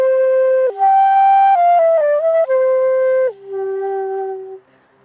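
A wavering, sliding tone imitates cicadas, stepping between pitches for a few seconds before fading out, loud and alone with no talking.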